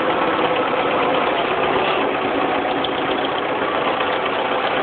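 A 1974 International 2400A industrial tractor runs at a steady idle, its hay-rake lift working, giving a loud, continuous, close engine drone with an even mechanical rumble and no break.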